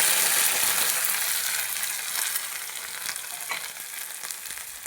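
Onions frying in a pan with a loud, steady sizzle as green nalleru pulp is added, hissing strongly at first and easing slightly, with some stirring.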